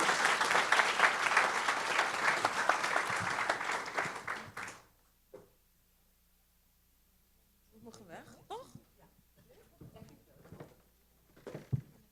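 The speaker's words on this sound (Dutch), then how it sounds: "Heel groot applaus voor jezelf en voor de panel natuurlijk." Applause for a congress panel, a dense burst of clapping from the audience for about four seconds that stops abruptly, followed by quiet and then talking.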